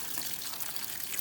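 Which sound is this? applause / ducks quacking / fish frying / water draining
water draining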